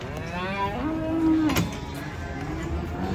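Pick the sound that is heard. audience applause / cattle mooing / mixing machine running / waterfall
cattle mooing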